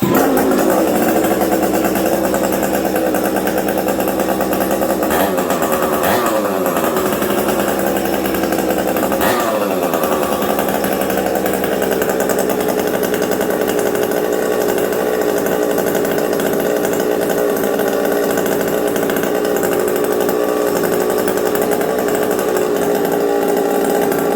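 A Husqvarna 365 chainsaw with an aftermarket pipe, being broken in, roars loudly and steadily for the whole stretch, with a couple of revving surges early on before settling into a constant drone.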